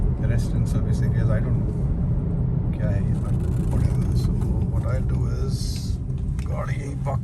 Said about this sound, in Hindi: गाड़ी यहीं पार्क करेंगे हम।